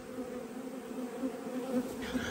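Honeybees buzz around an open hive in a post-harvest apiary, a dense steady drone close to the ear with small swells in loudness, no voices.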